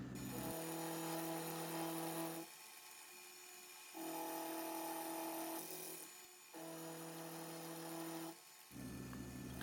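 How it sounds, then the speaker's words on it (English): An end mill cutting a 12 degree angle into a workpiece for a scratch-built plane part, heard as loud, steady whining passes of a couple of seconds each, separated by brief drops in pitch and load between cuts. "the end mill makes pretty quick work of it"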